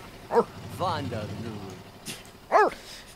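A dog in the video game The Sims 3 gives a few short yips and whimpers, close and fairly loud, in brief bursts with pauses between them.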